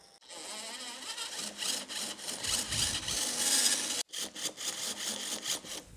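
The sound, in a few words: screw extractor turning counterclockwise to unscrew damaged screw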